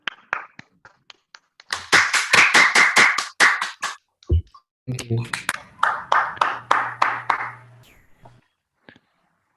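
Small online-workshop audience applause for a speaker: sparse claps first, then a few seconds of rhythmic clapping from a handful of people, a short pause, then another burst that thins out. A voice briefly speaks in the middle.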